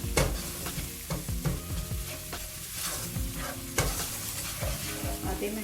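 Spinach for Punjabi palak saag sizzles in a hot pan while being stirred into spices, steady frying crackle close up with repeated scraping stirs, no talking.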